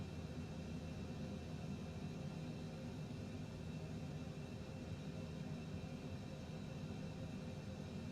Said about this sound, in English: Got the private jet tonight.